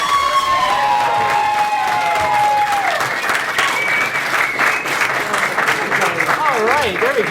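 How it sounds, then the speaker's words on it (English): Applause with cheers and whoops from a live convention audience at a furry-con stage show, loud and sustained throughout, with voices shouting over it. "Round of applause."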